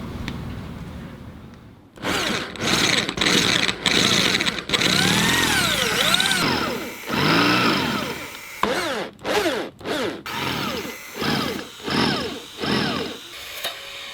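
A power drill whines in repeated bursts, pitch rising and falling as it bites into stainless steel on a boat in a marina, with short pauses between runs.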